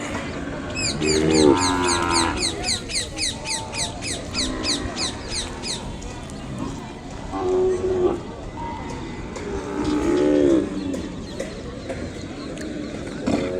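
Ongole cattle and calves at the Kodada cattle market, several drawn-out moos from nearby animals among busy crowd chatter, with a rapid chirping bird call early on.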